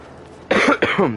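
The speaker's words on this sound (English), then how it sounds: "I do apologize for the coughing" A person recovering from illness gives two harsh, close coughs in quick succession, each a loud burst separated by a short pause.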